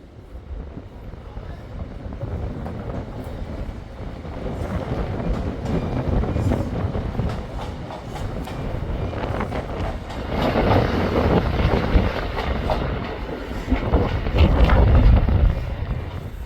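Two-coach diesel unit 156465 bound for Hexham rumbles through Newcastle station, a steady engine and wheel roar swelling toward the end, with wind buffeting the microphone.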